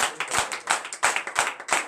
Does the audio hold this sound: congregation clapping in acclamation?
yes